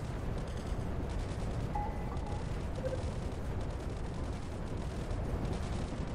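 Bombing in the nuclear strategy game ICBM: Escalation, rendered as a dense, continuous rumble of distant explosions with scattered sharper blasts, steady and unbroken throughout.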